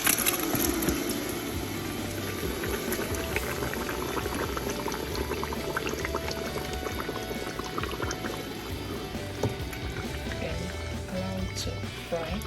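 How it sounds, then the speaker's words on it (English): Pepper sauce for ayamase stew sizzles and bubbles steadily as it fries in a cooking pot, a continuous close crackle with soft stirring clatter and no speech. "As it's frying, we are going to be stirring it up so that it don't burn."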